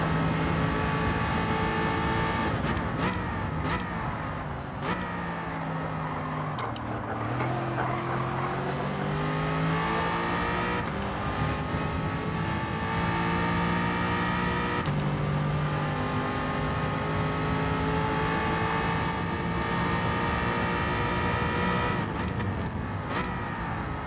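A car engine revving hard through a series of downshifts, pitch sweeping down then climbing again with each gear change, loud and close, sustained throughout with no talk.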